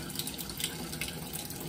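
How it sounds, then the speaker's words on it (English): Tap water runs steadily over a copper etching plate being washed after degreasing, a continuous close splashing hiss with no pauses. "you can wash the plate off"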